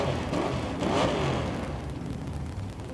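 Naturally aspirated big block drag race cars idle and rev at the start line of a drag strip, a loud, steady engine roar with a slight swell near the beginning, no voices.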